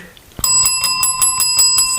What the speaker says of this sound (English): That's enough with the bell.